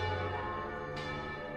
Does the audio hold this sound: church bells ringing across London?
yes